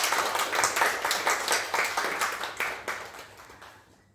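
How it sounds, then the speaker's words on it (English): Audience applause at a water-challenge launch event, a dense, steady clapping crowd that rings out for about four seconds and then fades away. "So let's give everybody a big round of applause."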